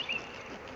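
Honeybees buzz inside a hive during a spring inspection, a soft, dense hum heard close for under a second.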